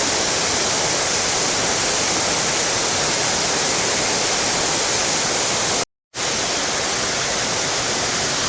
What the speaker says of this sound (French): Je sais pas si vous entendez le bruit de la cascade avec mon micro.